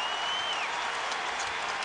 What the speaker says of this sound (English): There you hear the round of applause.